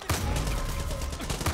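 Shotgun gunfire in the Far Cry 5 video game: a loud blast at the start and another near the end, with a sustained noisy roar of gameplay between them and no talk.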